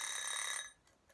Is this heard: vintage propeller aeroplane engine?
no